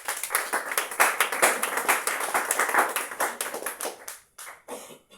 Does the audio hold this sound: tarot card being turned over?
no